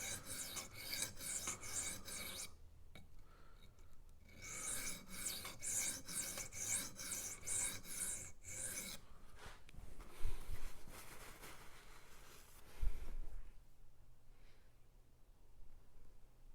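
A Rough Ryder Half Hawk knife blade is drawn across a sharpening stone held by 3D printed angle guides, giving steady rhythmic rasping strokes up close, with pauses and a few soft knocks between passes.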